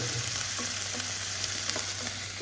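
Onions and garlic sautéing in a pan, with a constant bright sizzle and occasional light scraping from stirring, heard alone without talk.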